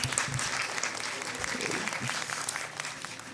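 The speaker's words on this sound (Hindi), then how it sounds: "हाँ एक बार और आप बजा सकते हैं तालियां।" A crowd at a humorous Urdu poetry mushaira breaks into sustained, lively applause, with a few faint voices murmuring underneath the dense clapping throughout.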